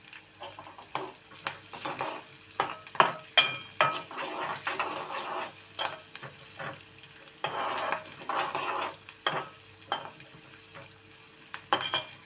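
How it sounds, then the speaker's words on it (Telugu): Curry leaves dropped into a hot pan of oil, giving a close sizzle and frying crackle with stirring scrapes and light clinks of a utensil against the pan in bursts. No one talks. "ఇప్పుడు కూడా వేస్తున్నాను కరివేపాకు కొంచెం."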